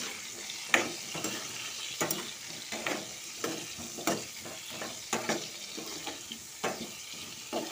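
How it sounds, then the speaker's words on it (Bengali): Potatoes fry in a pan with a soft, close sizzle broken by regular scraping stir strokes roughly every second, quiet overall and with no voices. "আগে আলুটা ভেজে নেব।"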